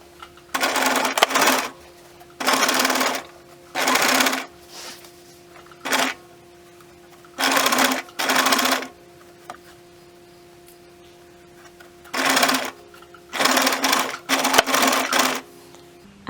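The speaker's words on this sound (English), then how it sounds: "all I'm doing is just a very quick running stitch all the way down to the other side" A sewing machine runs a quick running stitch along scuba fabric in repeated bursts of rapid, close mechanical whirring, each lasting about a second, separated by short quiet pauses.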